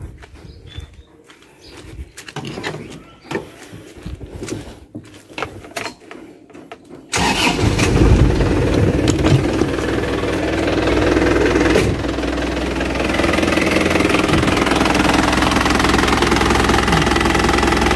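Clicking and handling noises come first, then the 2.5 turbo diesel engine of a 2010 Isuzu Panther LV cranks and catches, settling into a loud, steady knocking idle close by.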